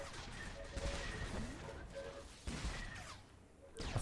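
Blaster fire from Star Wars: The Old Republic, a few sharp energy bolts and impacts in short clusters over busy combat ambience, fairly faint and without talk.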